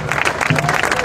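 A crowd at a street march against crime in Puerto General San Martín claps continuously, a dense patter of many hands, with voices mixed in underneath.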